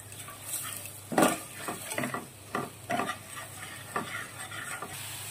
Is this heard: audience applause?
no